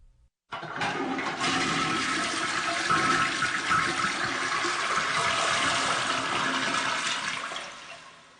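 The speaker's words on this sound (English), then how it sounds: "I had to flush my goldfish down the toilet" A toilet flush, starting abruptly and rushing loudly for several seconds as a dense steady gush of water, then easing slightly toward the end, alone without talk.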